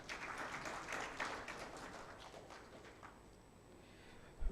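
Scattered audience clapping at a summit event, fairly faint and thin, fading over a few seconds with room ambience beneath.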